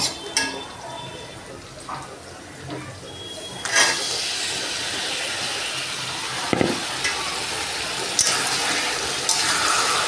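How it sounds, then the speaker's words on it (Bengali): Yogurt and mustard-oil marinated chicken hits hot oil in a frying pan where potatoes were just fried, giving a steady broadband sizzle with a few sharp clinks of utensil on pan, close and continuous. "এবার চিকেনটা এর মধ্যে ছাড়বো।"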